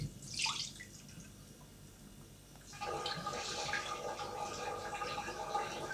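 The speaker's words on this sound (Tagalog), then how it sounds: "Dito ako magugas ng bigas." Rice being washed in cold tap water and stirred with a spoon in a kitchen, a brief splash and trickle followed by steady running water and sloshing that continues to the end, close and moderately loud, with no talking.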